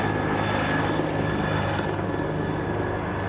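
Firefighting helicopters working a wildfire, their steady rotor and engine drone loud and continuous throughout with no talk.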